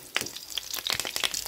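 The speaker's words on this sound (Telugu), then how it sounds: "జీలకర్ర కూడా వేగిపోయింది ఫ్రెండ్స్" Cumin seeds frying in a pan for a moong dal (pesarapappu) lentil curry, giving crisp, irregular crackles and pops over a soft, steady sizzle, close and fairly quiet.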